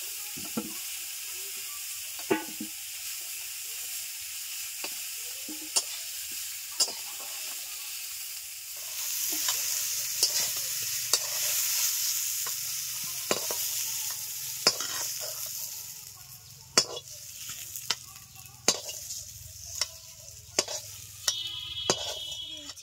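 Winter vegetables fry in mustard oil in a pan with a steady sizzle, while a spoon stirs and scrapes repeatedly, giving sharp clinks and scrapes across a hiss that builds and grows louder partway through.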